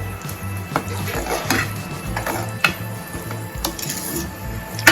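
Chutney powder is stirred into a Kathiyawadi drumstick kadhi in a pot, with a spoon scraping and clinking against the metal in a quick, continuous rhythm, close and fairly loud.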